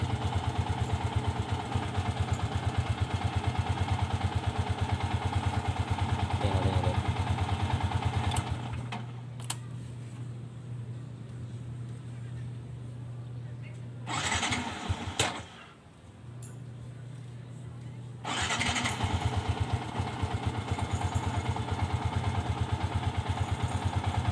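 Sniper 150 motorcycle idling at low RPM with a steady low putter, close and moderately loud. It drops to a weaker, uneven idle midway, sputters and dips briefly, then recovers to the fuller idle.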